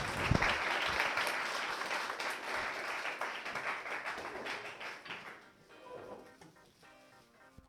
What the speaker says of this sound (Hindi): एक बार जोरदार तालियां हो जाए सर के लिए